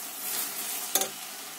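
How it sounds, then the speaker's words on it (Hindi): Sugar being stirred into carrot halwa in a pan, made without milk: a soft, steady scraping hiss with one brief louder scrape near the middle, fairly quiet and close, no voices. "चीनी डाल के इसको खूब अच्छे से मिक्स करें।"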